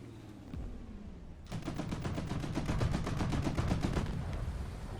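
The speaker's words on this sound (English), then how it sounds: "He's shooting at someone." Rapid machine-gun fire in the War Thunder combat game, a steady, evenly spaced burst of about two dozen shots lasting a few seconds, loud and close.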